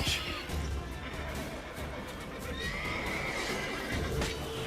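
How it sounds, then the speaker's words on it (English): Panicked horses in The Witcher 3 neighing and whinnying shrilly amid battle noise and hoof sounds, close and loud over a continuous rumbling backdrop. "Horses are freaking out."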